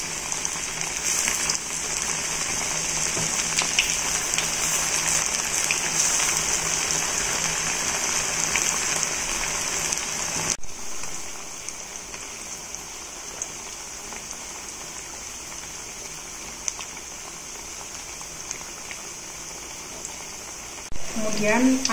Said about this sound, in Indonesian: Kemudian kita siapkan minyak panas untuk menggoreng tempe.